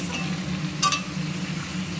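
Pointed gourd and potato pieces fry in a pan with a soft, steady sizzle, broken by one brief scraping stir near the middle, no voices.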